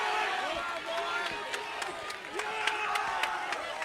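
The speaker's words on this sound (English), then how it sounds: "Crowd getting rambunctious on this 4th down and 4." A high school football stadium crowd grows rowdy before a 4th down and 4 at the 10-yard line, a dense roar of cheering and clapping with sharp claps cutting through, as a commentator talks over it throughout.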